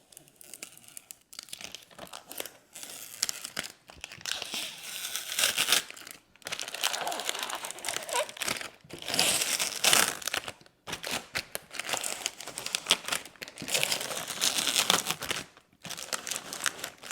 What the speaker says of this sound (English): Now I can start removing the transfer tape.